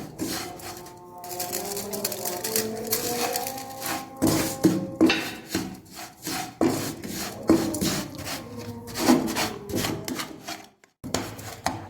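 A spoon scrapes and stirs sugar and gram flour in a pan for besan laddu, irregular rough rubbing strokes with occasional clinks, close up and fairly loud.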